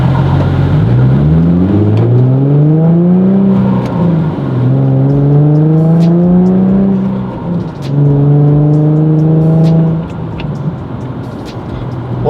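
A Nissan G37/370Z with a Spec Stage 2 clutch accelerates through several gears, its engine rising in pitch and dropping at each shift, loud and close throughout.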